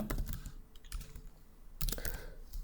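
Code is typed on a computer keyboard in quick clustered bursts of close, crisp key clicks separated by short pauses.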